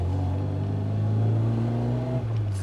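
A Lada car engine revs with a strong low rumble that rises and holds, then drops briefly near the end, heard fairly close with no talk over it.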